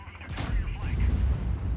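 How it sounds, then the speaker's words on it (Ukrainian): A single heavy cannon blast from a T110E4 tank firing a high-explosive shell in a video game booms out, followed by a rumbling echo that lingers, with a voice faintly underneath. "Кидає туди фугасом в ту сторону."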